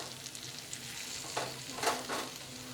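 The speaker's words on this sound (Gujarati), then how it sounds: "હવે આ ખજૂરને આપણે એકદમ ધીમા ગેસ પર શેકી લઈશું" Chopped dates roasting in ghee in a pan over very low gas, a faint soft sizzle with a few brief scraping stirs, close and quiet, with no one talking.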